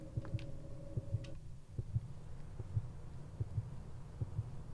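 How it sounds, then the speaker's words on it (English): Steady heartbeat pulsing in the background of the horror dating game Sucker For Love, a soft low double thump repeating at an even rhythm under a faint hum. "The heartbeat in the under sound is really jarring"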